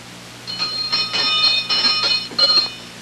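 A small bell rings repeatedly in quick, uneven shakes, bright and close, jingling for a few seconds.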